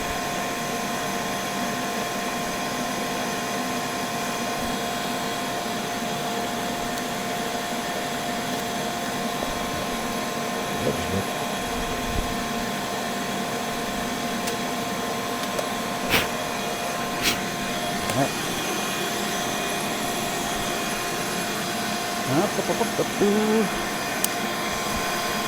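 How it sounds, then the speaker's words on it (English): A shop vacuum runs steadily in a woodworking shop, a loud constant whine and rushing drone throughout, with a few faint knocks and clicks over it. "Hopefully that vacuum's not too bad."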